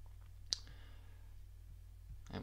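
A single crisp mouse click selects conversions while setting up Facebook Ads, one sharp tap near the start over faint steady hum, with a soft second click at the very end.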